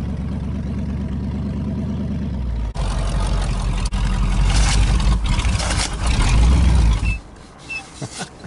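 An old car engine with a flooded carburetor runs rough, a low uneven rumble that changes and grows louder partway through before cutting back to sputtering bursts near the end.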